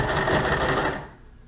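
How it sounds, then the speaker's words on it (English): A sewing machine stitches a contoured fabric face mask, a close, steady mechanical whir that runs continuously for about a second before cutting off into near silence. "just start sewing"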